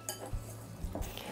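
A whisk clinks and scrapes briefly inside a bowl, mixing lemon icing sugar glaze with milk, with a few quick metallic taps up close.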